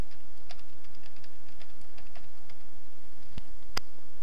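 A password is tapped out on a computer keyboard, light clicking keystrokes in an uneven patter, close and fairly quiet, ending with two sharper louder key presses.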